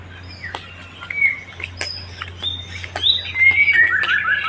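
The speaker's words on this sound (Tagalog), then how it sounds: "Maririnig mo tuwing umaga at hapon dito mga ibon." Several birds chirp and tweet nearby in quick, scattered calls over a low steady hum.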